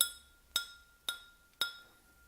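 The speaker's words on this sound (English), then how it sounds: "I'm flicking the glass." A finger flicks a glass four times at a steady pace, each a bright, close clink with a high ringing tone that fades quickly, heard alone and quiet.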